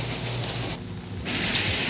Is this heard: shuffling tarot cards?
no